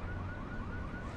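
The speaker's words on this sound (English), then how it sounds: "Somebody stop that car alarm." In a video game, a car alarm wails with a steady, repeating rising tone at moderate volume, and no voices are heard during it.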